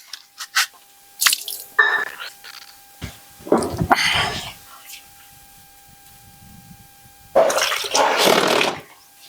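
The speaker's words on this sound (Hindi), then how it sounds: "तो अब इनको धो, हाँ, आराम आराम से ये अब खंगाल दीजिए।" Water splashes and sloshes in separate bursts as items are rinsed by hand, loud and close, with pauses of quiet between the bursts and voices talking.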